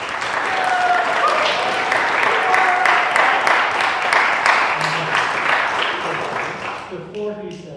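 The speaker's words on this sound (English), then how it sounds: "Can you please give a big round of applause for Mr. Lee Kesselman conducting the program." An audience at a concert hall applauds conductor Lee Kesselman, with dense, sustained clapping and some cheering that gradually thins out near the end, followed by a brief voice.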